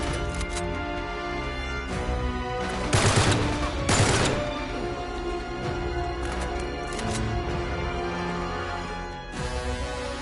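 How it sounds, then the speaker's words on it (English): Enemy blind-firing bursts in Uncharted 3, a steady stream of gunfire against dense game music and ambience, with two louder, heavier volleys in the middle. "He's just gonna blind fire me."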